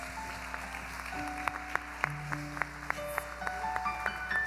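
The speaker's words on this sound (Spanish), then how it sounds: "Vamos a darle unas palmas al Señor, a su presencia." Church congregation clapping along during a worship service, steady rhythmic hand claps over sustained organ or keyboard tones, moderately loud and continuous.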